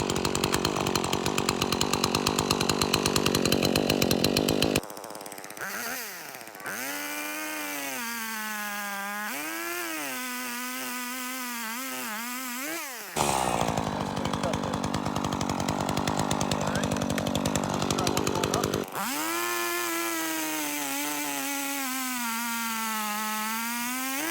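A chainsaw roars at close range through a downward cut, dropping in pitch and straining under load as the chain bites into the wood, then revving high again between steady loaded stretches.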